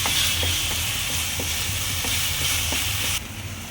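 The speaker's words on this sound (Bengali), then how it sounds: "চার চামচের মতো আদা রসুনের পেস্ট দিয়ে দেবো আবার সেই নাড়াচাড়া করতে থাকবো" Ginger garlic paste frying in oil in a pan for prawn malai curry, a dense close hiss with repeated rhythmic stirring scrapes, cutting quieter near the end.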